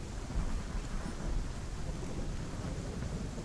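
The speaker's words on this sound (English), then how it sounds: "We're doing a dance in the rain. Cause our character's in the rain." Steady rain and low rolling thunder in the video game Hellblade: Senua's Sacrifice, a dense, even wash of noise with deep rumbling underneath and no voices.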